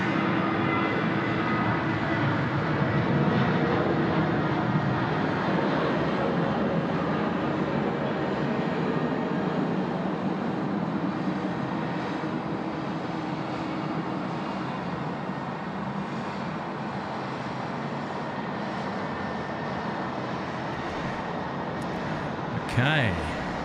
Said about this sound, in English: Here we go, Qantas 737 now, rolling 16 right. He's about to take off.